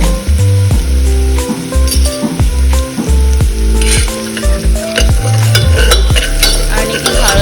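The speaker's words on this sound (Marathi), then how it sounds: "पण परतून घेऊयात" Misal masala frying in a pan with turmeric stirred in, giving a loud, steady sizzle with scraping stir strokes and occasional light clinks throughout.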